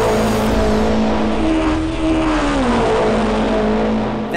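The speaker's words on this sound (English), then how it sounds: "you hear a higher pitch as the car's coming at you, and then that shifts to a lower pitch as the car passes and is going away from you" A race car roars past with a clear Doppler shift: the loud engine drone holds a higher pitch on approach, then slides lower as it passes and pulls away.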